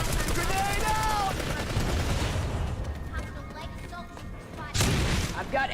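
A grenade explosion and gunfire in a PS2 shooter, a dense, loud burst of booming blasts and rattling shots that eases off, then a sharp new burst near the end, with a voice talking over the start.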